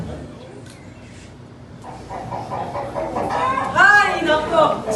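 Roosters clucking and crowing at a cockfight, a crowd of voices murmuring beneath as the birds grow louder and more agitated toward the end.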